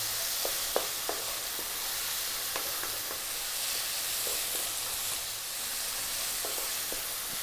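Mushrooms and other ingredients stir-fry in a pan over high heat, a steady loud sizzle running throughout with scattered scraping stirs and taps as the food is kept moving.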